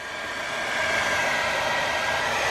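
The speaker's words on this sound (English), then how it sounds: "That is a hair dryer taped to a jack with a light." A hair dryer taped to a jack blows steadily with a broad, constant whoosh, growing slightly louder after the first second and holding level.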